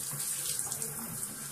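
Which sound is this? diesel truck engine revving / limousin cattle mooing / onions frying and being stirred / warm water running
warm water running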